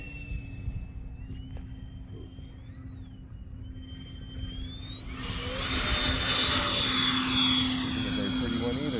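An FMS A-10 Thunderbolt II RC model jet flies slowly overhead, a thin whine that shifts in pitch over a low steady hum, then grows louder and higher as it passes closer.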